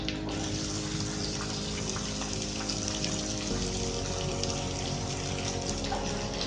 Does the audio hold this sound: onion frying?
yes